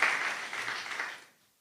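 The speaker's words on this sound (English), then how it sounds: "a round of applause for Robert" Applause from a small audience at a panel event on TikTok content and regulation, a brief burst of clapping that fades out quickly to near silence.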